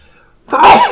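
One loud, close human sneeze: a short quiet intake, then a sudden explosive burst lasting under half a second.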